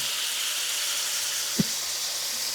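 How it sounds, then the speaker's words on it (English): Steady hiss of steam as water cooks out of pork cube steak made from cheap pork loin in a pan, a continuous sizzle with one faint clunk midway. "Basically, the water's cooking out, the steam."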